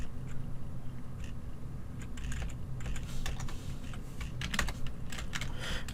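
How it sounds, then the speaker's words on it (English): A computer keyboard clatters with quick, uneven keystrokes as a Minecraft command is typed, close and moderately loud over a low background hum. "Maybe if I type the command correctly."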